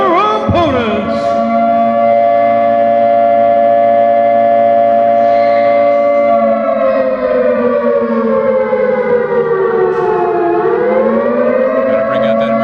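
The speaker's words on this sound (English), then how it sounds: "We're hearing some sirens here." Emergency broadcast sirens blare very loud at a wrestling show in a rec center, a civil-defense wail that holds steady, then sags and swoops back up, filling the room.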